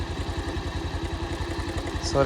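A motorcycle engine idles with a steady low pulsing chug as the rider eases out the clutch on a small uphill slope, the engine labouring, with a voice speaking over it.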